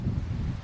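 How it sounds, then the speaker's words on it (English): Gusty wind buffets the microphone outdoors during metal detecting, a dense low rumble that stays steady and close for under a second before easing slightly. "I've had enough of this wind."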